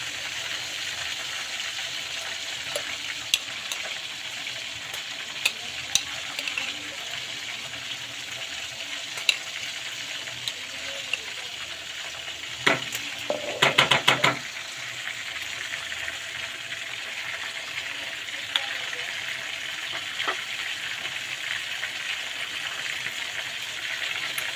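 Garlic fries in a pan for creamy garlic chicken, giving a steady, moderate sizzle with scattered crackles and a brief burst of louder stirring and scraping partway through, with no talk.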